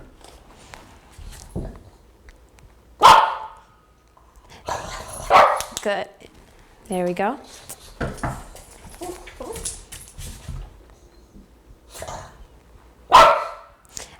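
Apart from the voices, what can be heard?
dog barking at doorbell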